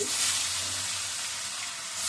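Steady broadband sizzling of fish frying in hot oil, continuous and fairly loud throughout, with a low hum underneath and no talking.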